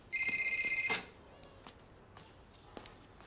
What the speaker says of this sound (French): Tiens, téléphone.